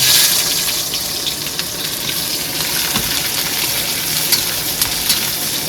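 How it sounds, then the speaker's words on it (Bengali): Onion frying lightly in hot oil in an outdoor picnic kitchen gives a steady, close sizzle with bright crackling spatters that run without pause. "তেল গরম হয়েছে পেঁয়াজটা ভেজে নেবো হালকা করে"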